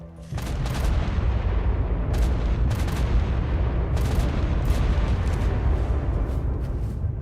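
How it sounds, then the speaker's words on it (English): Explosions in the video game ARK with the Primal Fear mod, a continuous heavy low rumble of booms with sharp blasts breaking through every second or so, loud and close. "I just started hearing explosions for no reason at all."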